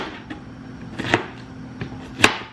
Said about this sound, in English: Now we're gonna chop up an onion.